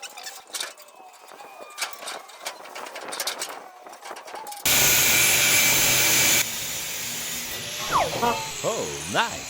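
An angle grinder whines steadily while it bevels the steel of an old trailer chassis for welding. The tool runs loud for a couple of seconds and then drops to a lower drone, with people talking before and after.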